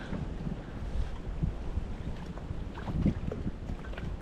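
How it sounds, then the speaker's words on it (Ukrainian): Very strong November wind while fishing buffets the microphone in continuous low rumbling gusts, with faint water sounds beneath. "це прям дуже сильний вітер."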